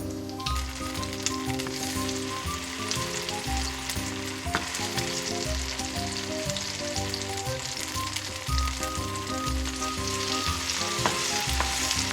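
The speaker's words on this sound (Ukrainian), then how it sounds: "І так смажимо" Steady crackling sizzle of zucchini potato pancakes frying in a hot pan, continuous and close, with occasional faint scraping.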